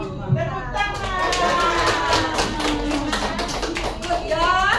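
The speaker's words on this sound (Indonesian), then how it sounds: "Tepuk tangan." A group claps hands together during an Indonesian learning session, making a steady patter of sharp claps under continuous talking.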